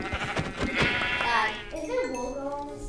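Sheep in the video game Minecraft give several wavering bleats, close and clear, with people chattering over them.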